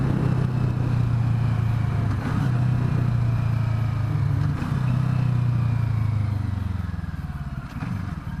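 A CFMOTO 650NK motorcycle engine drones steadily while riding, a loud continuous low hum that holds constant before easing slightly near the end, with no talk.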